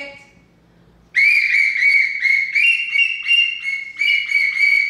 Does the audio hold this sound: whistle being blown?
yes